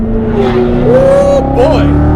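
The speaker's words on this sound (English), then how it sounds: "I got race car coming in hot. Let him pass" A race car passes close by on a damp track in a Corvette Z06 session, its engine note climbing and sweeping in pitch. The steady drone of the onboard engine runs underneath.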